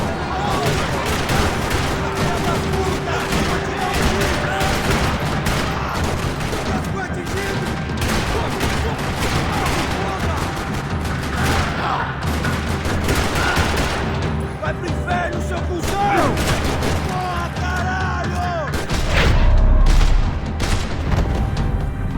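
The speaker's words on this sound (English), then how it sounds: "Another parking lot rattling with gunfire." In the video game Max Payne 3, dense, continuous gunfire fills a parking lot with rapid bursts and scattered booms, loud and chaotic, with voices shouting underneath.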